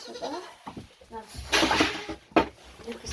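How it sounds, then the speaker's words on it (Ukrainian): Goat kids bleat on a small farm where kids and lambs are bottle-fed, with loud, close cries bursting out twice in quick succession amid farmyard shuffling and a person talking. "О, козенята починають кричати, бо хочуть ще."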